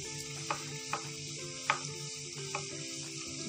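Namak pare dough pieces frying in hot oil over a medium flame, a soft, steady bubbling sizzle with a few distinct pops and clicks, set against a faint tonal hum.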